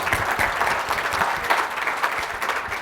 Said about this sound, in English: We could clap up for the young folks.